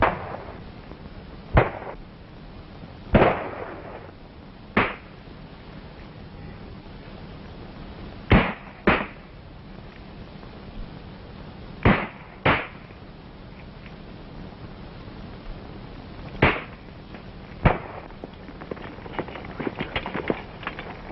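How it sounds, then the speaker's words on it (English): Gunshots ring out in a battle scene from a 1932 adventure film, about a dozen sharp, loud cracks spaced irregularly over a hissy, lo-fi background, some in quick pairs. "Shots came from over there"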